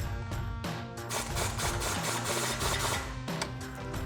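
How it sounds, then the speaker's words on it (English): An impact wrench with a 38mm socket tightens a castle nut on a 4Runner front CV axle, hammering in loud, rapid, continuous rattling bursts that pause briefly and resume. "we're going to take a 38mm socket and an impact. We're going to tighten down this castle nut."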